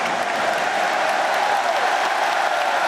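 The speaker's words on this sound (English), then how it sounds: "And the crowd urging this French team on." Ice hockey arena crowd at a Canada versus France world championship game, cheering and clapping in a steady, loud roar that urges the French team on.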